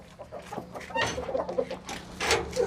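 Hens and a rooster cluck repeatedly in a farm breeding room, a close, busy run of overlapping clucks and short calls with no talk.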